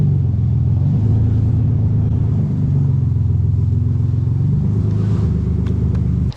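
A car engine idles at a junkyard with a deep, steady rumble, loud and close, with a couple of slight revs rising and falling in pitch.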